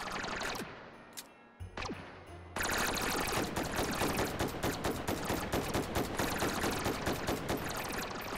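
Gunfire rattles in the VR shooter Hot Dogs, Horseshoes & Hand Grenades: a few isolated shots, then a long sustained burst of rapid automatic fire with sharp repeated cracks, fairly close and dense.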